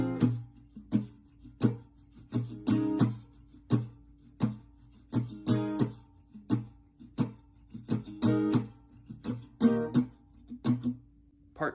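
Acoustic guitar playing part 1 of chorus 2: a steady rhythmic strumming pattern of repeated, quickly muted chord strokes at moderate loudness, heard alone.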